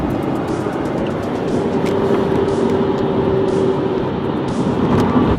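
Engine of a 1985 Lamborghini Jalpa running steadily, a continuous loud drone with a low hum, heard from close by throughout with no talking.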